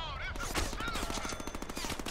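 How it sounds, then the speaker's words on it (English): Enemy gunfire in the Deadpool video game, with rapid automatic bursts rattling steadily and loudly throughout, layered with several shooters at once amid game noise. "There's more people shooting."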